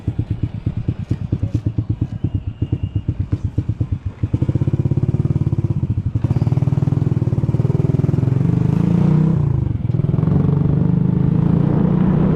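A Wave 100 motorcycle engine putters with a rapid, pulsing idle up close, then revs up into a steady, louder drone.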